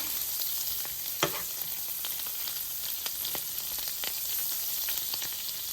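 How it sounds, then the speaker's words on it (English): Garlic butter melts and sizzles in a pan previously used for frying salmon, a steady close hiss with soft crackles and a few brief spatters, no voices. "I'm melting the garlic butter"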